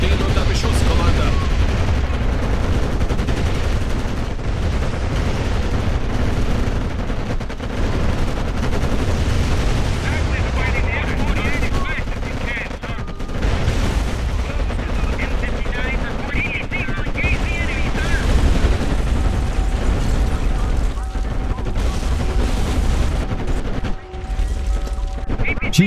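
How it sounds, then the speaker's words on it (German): Sustained gunfire and explosions rumble through a Codename Panzers Cold War battle, dense and continuous for the whole stretch, with bursts and booms layered over mechanical noise and occasional game voice lines. "Unsere Einheiten stehen unter Beschuss, Commander."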